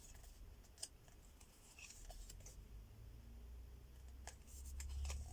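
Tarot cards are shuffled close by and quietly, giving soft riffling and flicking bursts with a few sharp snaps, faint and without talk.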